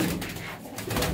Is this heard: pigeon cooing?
yes